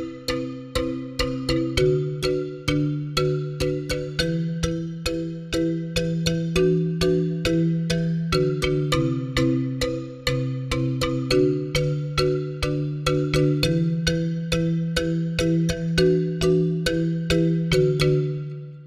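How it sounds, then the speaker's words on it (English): An 8Dio orchestral percussion sample that sounds like a xylophone played with brushes taps out a steady, bright melodic pattern of quick struck notes that ring briefly and repeat evenly. "I don't know if it's a xylophone with brushes, but it sounds pretty damn close."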